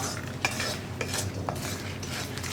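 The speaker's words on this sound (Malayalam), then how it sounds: "ചൂട് കുറയുന്നത് വരെ ഒന്ന് ഇളക്കി കൊടുക്കുക" Soft scraping and light clinks of a spoon stirring coconut in a hot pan, with faint sizzling underneath.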